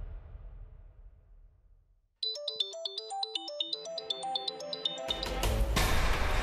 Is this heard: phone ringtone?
yes